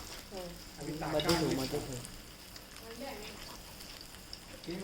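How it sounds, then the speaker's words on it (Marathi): Bombil (Bombay duck fish), dipped in rava, fries with a faint, steady sizzle in the background while people talk over it. "बोंबील आणलाय पण तळतं आता"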